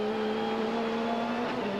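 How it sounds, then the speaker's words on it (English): Dick Johnson's 550-horsepower Shell Sierra touring car races at Wanneroo in 1992, its engine holding a steady mid-range drone before a quick pitch shift near the end as he opens the throttle, heard close and alone. "If you listen to the engine pitch on Johnson's car"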